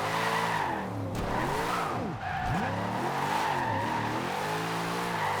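A drift car in Forza Horizon 2 revs hard while its tyres squeal, with the engine note rising and falling as it slides sideways, loud and steady throughout.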